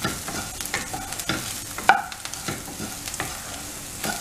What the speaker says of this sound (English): You can slowly mix this coriander seeds with these onions.